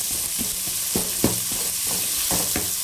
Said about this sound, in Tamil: ஆனியன் வந்து நல்லா ப்ரௌன் கலராக வதங்கட்டும்